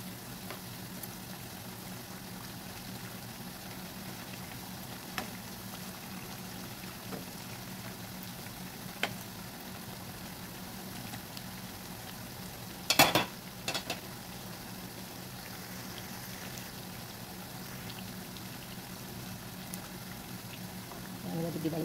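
Lentil fritters (bakwan lentil) frying in a pan of oil give a faint, steady sizzle throughout, with one brief louder clatter near the middle.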